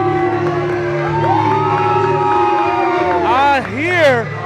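A wrestling crowd at a Christian Wrestling Federation show keeps up a steady, dense roar, with rising whoops and shouted calls that swell near the end.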